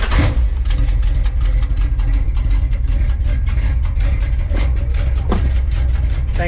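A big block engine in a 1984 Dodge D100 pickup idles roughly and unevenly after long storage, a steady low rumble up close with no talk over it.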